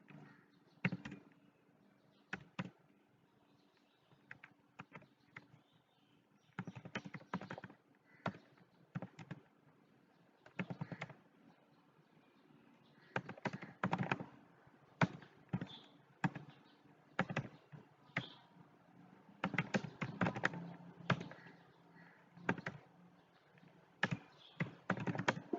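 Values go into IBM SPSS on a computer keyboard, heard as quiet close key taps in irregular bursts and short runs with pauses between them, in an otherwise silent room.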